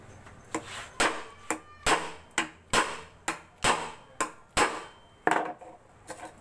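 Repeated sharp hammer blows ringing on metal while riveting a motorcycle clutch housing, about two strikes per second, close and loud with a slightly irregular rhythm.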